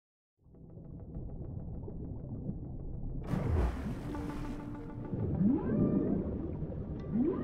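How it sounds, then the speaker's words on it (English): A dolphin's chirps and whistles from the underwater video game Dave the Diver rise over a low watery rumble, with a burst of splashing bubbles midway and rising squeaks near the end, alone and fairly quiet. "A what? A dolphin."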